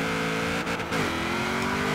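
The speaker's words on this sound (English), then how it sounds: "We'll gas it all the way, and now the car launches just a slight bit different." A Honda Civic in Forza Horizon 4 launches hard, its engine revving loud and steady throughout with a brief dip and a quick gear change partway, heard alone without voices.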